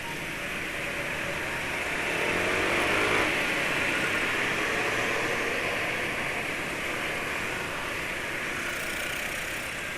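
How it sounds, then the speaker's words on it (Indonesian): A new motor scooter engine runs steadily at idle with a broad, even hiss-like drone, swelling slightly around the third second before settling back to a constant hum. "Motor baru aja suaranya kayak gitu."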